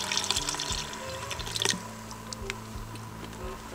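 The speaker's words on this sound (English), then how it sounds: "Just finish it up with some bone broth, beef bone broth." Beef bone broth poured into an Instant Pot holding short ribs. Close liquid splashes and drips fade into quieter trickling, set against faint kitchen hum and background music, with no talking.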